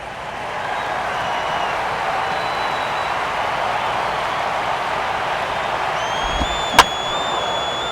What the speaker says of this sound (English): Now a ball hit foul off to the right and up into the crowd.